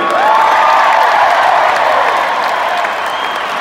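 A concert crowd applauds and cheers for a band, a dense, loud, continuous roar of clapping with scattered whistles and whoops that holds steady throughout.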